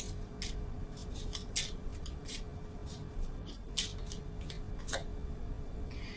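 A single tarot card drawn from a deck during a reading, with a handful of quick crisp card slides and snaps set against a steady, low room hiss and no talking.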